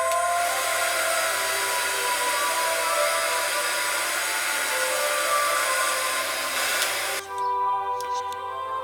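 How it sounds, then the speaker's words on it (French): A heat gun blows hot air over paper stained with ground coffee, a steady, loud, close whooshing hum that holds for about seven seconds before cutting off, leaving a quieter background. "Je peux utiliser un hot gun pour accélérer le séchage."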